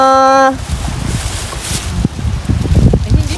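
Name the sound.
strong wind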